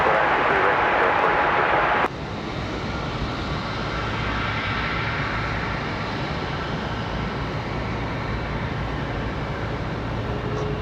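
Airliner taking off from runway 23 right at Raleigh-Durham International, a loud, steady engine roar that changes character partway through and then holds as a sustained rumble, with a voice in the background.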